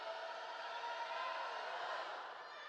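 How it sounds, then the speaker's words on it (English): A faint, distant volleyball crowd at a women's college match between Ohio and Bradley, a sustained wash of cheering and shouting at set point, even and unbroken. "Crowd back on their feet for set point."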